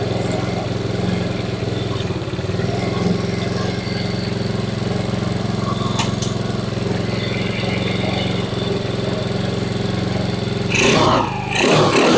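Motorcycle engine running on a freshly assembled bike, a steady low rumble held near idle with a brief louder rise near the end, close and continuous.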